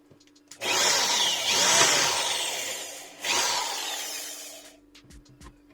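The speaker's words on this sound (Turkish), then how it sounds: "vida deliklerimizi açıyoruz" A power drill bores screw holes into wood for a handmade jewelry and tool organizer. Two close, whining drilling bursts of a couple of seconds each, with faint clicks between and after.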